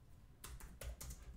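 Close, crisp keystrokes on a computer keyboard as code is entered in Xcode, a handful of separate clicks tapped in an uneven rhythm after a short quiet pause, with no voices.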